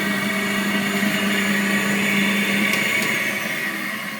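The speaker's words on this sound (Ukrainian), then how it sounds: "Дуже гарний пилосос." Gorenje VCE01SFABKR vacuum cleaner running steadily at its lowest power setting, a constant close whirring drone with a low hum, sounding alone without speech.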